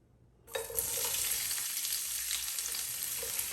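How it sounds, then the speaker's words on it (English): Red cabbage hits olive oil in a pan and breaks into a loud, sudden sizzle after a brief quiet start, then keeps frying steadily and close up, with no talking. "I'm gonna get the cabbage started with a little saute action."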